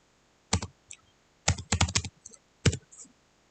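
A command being typed on a computer keyboard: a few sharp, close key clicks in short irregular clusters, separated by silence, with no voice.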